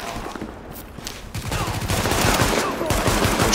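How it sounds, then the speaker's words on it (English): Rapid automatic gunfire rattles through a firefight in The Division video game, dense overlapping bursts that build louder over a few seconds, with a faint voice underneath. "Shooting him in the head"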